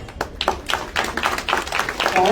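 Audience clapping at a local election campaign rally in Lonavala, Maval, a steady patter of many hands with scattered sharp claps building slightly toward the end, with a voice faintly present beneath.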